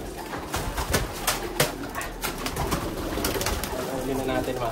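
Pigeons cooing close by in a loft, soft repeated coos over steady background hiss, with a few brief knocks and wing or handling sounds, and no talk.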